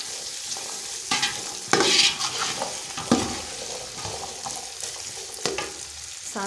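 Grated ginger being stirred in a hot frying pan for chana pulao, with repeated scraping spoon strokes over a soft, continuous sizzle, close and alone without talk.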